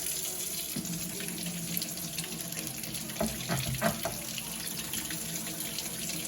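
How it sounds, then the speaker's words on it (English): Tap water runs steadily into a sink, rinsing burned-on red wine residue off a still-hot dish, with a few soft knocks and splashes from the dish being handled. "the frozen, burned on red wine is just rinsing off in the water"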